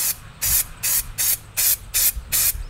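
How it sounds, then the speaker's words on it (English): Anti-gravel spray can being sprayed onto a car fuel tank, a rubbery underbody coating: seven short, loud hissing bursts in a fairly even rhythm, each about a quarter second long, with brief quiet gaps between. "This is an anti-gravel spray,"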